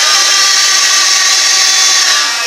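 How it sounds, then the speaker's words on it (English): A Ryobi P712 18V cordless hand vacuum runs with a failing bearing, giving a steady, loud high-pitched whine with a faint rattling edge that holds for a couple of seconds before easing off slightly, with no voices. "I fired up my Ryobi hand vac this morning and it just didn't sound good"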